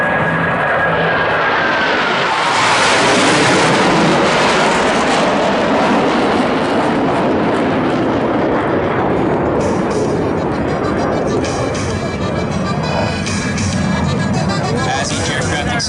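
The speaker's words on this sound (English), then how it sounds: "As each aircraft accelerates to 500 miles per hour, they will perform a reversal turn back toward the flight line." Blue Angels jets perform at an air show at NAS Jacksonville, accelerating to around 500 mph: a loud, continuous jet roar that swells and sweeps past, with crowd noise and an announcer's voice over the top.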